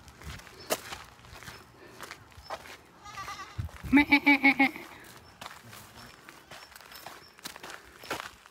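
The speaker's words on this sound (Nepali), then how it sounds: "बाख्रा बाला रहेछ यहाँ।" Goats bleat outdoors in one loud, close, wavering call midway, with footsteps crunching before and after it.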